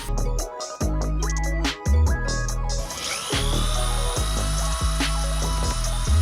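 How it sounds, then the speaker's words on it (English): A power drill with a buffing wheel whirs loudly in pulsing bursts, its pitch shifting as it bites, with a high grinding whine joining partway through. "Next, you gotta get a drill."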